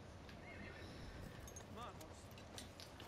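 A horse in the Battlefield 1 video game whinnies amid a dense wash of battle noise and hoofbeats, the neigh rising briefly near the middle, with someone talking over the din.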